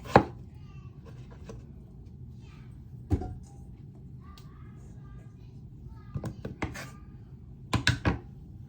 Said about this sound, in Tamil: இப்போ பூசணிக்காய் வெட்டி எடுத்துட்டேன்.